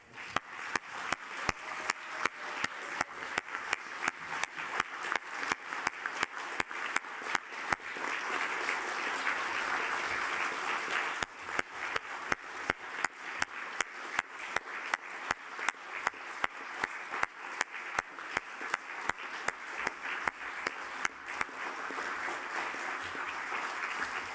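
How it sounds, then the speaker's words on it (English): A council chamber audience gives a round of applause for a certificate presentation at a full council meeting, with steady, fairly faint clapping that carries on for the whole stretch. "And I think a round of applause is in order."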